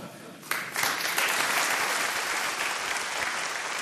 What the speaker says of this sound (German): Unter großem Applaus überreichte hiernach Professor Reinitzer die Preisurkunde an den Preisträger